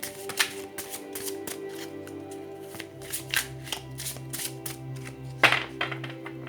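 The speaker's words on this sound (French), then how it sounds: "Prendre le temps de tirer deux cartes." Tarot cards are shuffled and drawn from a deck, giving a quick run of close, crisp riffling flicks and soft slaps, with a low steady hum behind and no one speaking.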